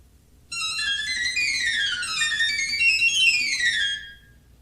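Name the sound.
fairground organ piccolo pipes playing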